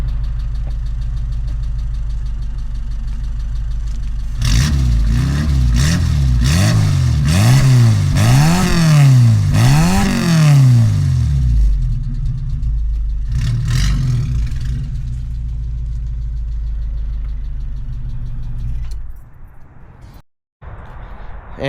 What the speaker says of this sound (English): show you what the exhaust sounds.